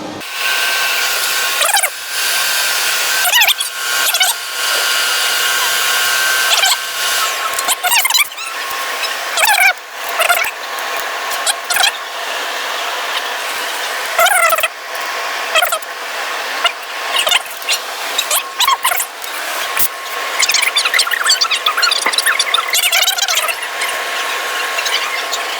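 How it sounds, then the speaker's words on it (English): A bandsaw cuts a miter on a 6-inch 90-degree elbow, giving a loud, harsh blade screech and grinding squeal that runs almost nonstop with brief dips, close up and without speech. "Bandsaw blade again."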